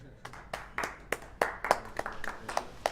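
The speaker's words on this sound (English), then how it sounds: "Late night quiet claps." A few people clap softly and sparsely late at night during a charity gaming livestream, scattered light claps spread unevenly rather than as sustained applause.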